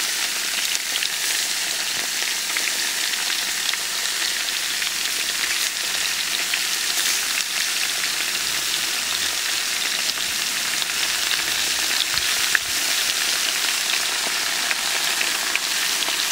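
Potatoes and lamb fry in a new cast-iron kazan, an even, dense sizzle like steady rain, close and continuous with occasional faint pops and no talking.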